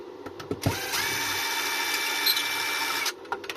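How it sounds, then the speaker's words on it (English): A power driver whirs steadily for a few seconds, backing a stubborn screw out of an e-bike battery casing during a teardown, with small clicks and taps of handling before and after. "Well, the screw doesn't really want to come out"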